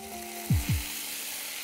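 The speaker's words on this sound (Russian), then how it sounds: "Ну, не поджарю, подрумяню, так скажем, на сковороде." Young boiled potatoes brown in a frying pan, giving a steady soft sizzle, with two quick dull knocks near the middle.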